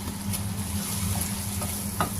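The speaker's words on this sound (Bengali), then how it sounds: "এভাবে খুলে ভালো করে নেড়ে চেড়ে এটাকে আমি একটু ভেজে নেব" Boiled fish roe fries in oil in a pan with a continuous close sizzle. A few soft stirring scrapes break through, and no one speaks.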